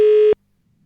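A single short busy-signal tone from a telephone on a faulty line, loud and clean, cutting off abruptly into near silence.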